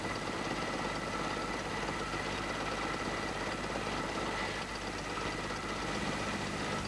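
Car gasoline engine idling steadily during a carburetor tune-up, a constant low rumble with a faint mechanical tick, close and even throughout with no talk.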